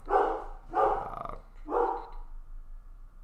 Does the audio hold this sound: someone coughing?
no